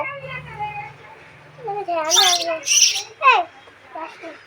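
Sparrow chick chirping in a few short, bright bursts between other sounds, close by, while a child and an adult talk over it.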